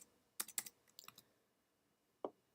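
Several sharp keyboard clicks on a computer keyboard in quick bursts, then a pause and one more keystroke, fairly quiet and close, with no talking.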